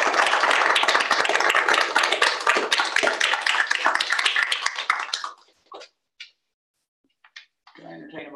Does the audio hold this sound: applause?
yes